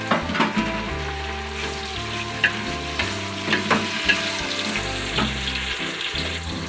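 Onions, green chilies and tomatoes fry in oil for mushroom biryani, giving a steady close sizzle with stirring scrapes and occasional crackles throughout.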